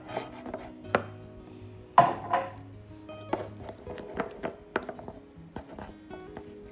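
Banana mashed and mixed into green gram flour for a face mask, with soft irregular taps, scrapes and squelches of a utensil against a bowl, close and fairly quiet, no talking.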